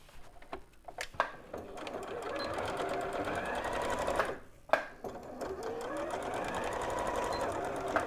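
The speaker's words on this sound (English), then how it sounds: "I'm just sewing up the bottom and leaving an opening here so we could turn it right side out." Sewing machine stitching across the bottom of a tote bag made from upcycled denim, a steady close rapid needle clatter that runs almost without a break, with a brief pause and a few sharp knocks near the middle.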